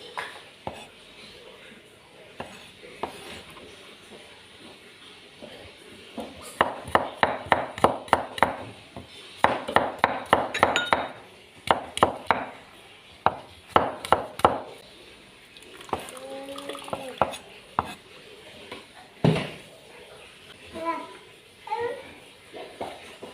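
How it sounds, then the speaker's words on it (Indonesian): A knife slices garlic and spices on a cutting board in bursts of rapid, crisp taps, with quieter pauses and scattered single knocks between runs, close and fairly loud. "Selesai mengiris bumbu-bumbu"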